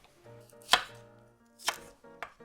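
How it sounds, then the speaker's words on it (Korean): Celery roughly chopped with a knife on a board while making cauliflower soup: three separate sharp, close chops, unevenly spaced, over a soft steady tonal background. "샐러리도 대충 썰어주세요"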